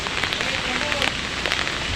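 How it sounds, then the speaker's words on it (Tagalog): Steady heavy rain pours down during a typhoon and monsoon downpour, a dense continuous hiss and patter drumming on surfaces close by, with no pauses through the whole stretch. "hindi pa rin po natigil ang pag-ulan"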